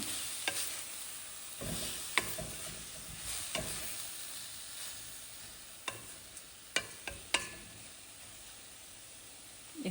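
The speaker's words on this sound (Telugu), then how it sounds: "ఇప్పుడు కొంచెం మిక్స్ చేసుకొని" Beetroot fries in a steel vessel with a soft background sizzle while a spoon scrapes and clinks against the pan several times.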